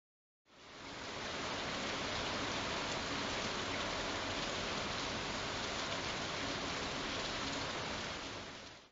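Steady rain at the start of the rainy season falls in an even, dense hiss that fades in at the start and holds at constant level throughout, close and uniform with no voices.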